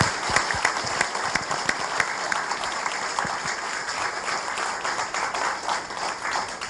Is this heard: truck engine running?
no